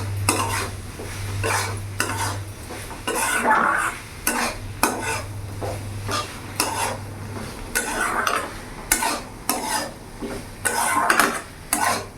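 Spoon scraping and clanking in a pan as okra is stirred into a dhaba-style masala and fried, repeated bursts over a low steady sizzle, close and clear.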